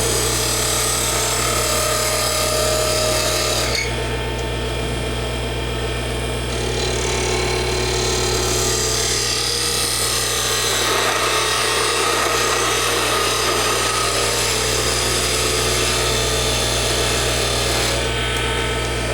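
A wood-turning gouge cuts into a spinning Christmas ornament on a lathe, giving a continuous scraping, rasping hiss over a steady low motor hum, close and fairly loud, with a brief lull a few seconds in.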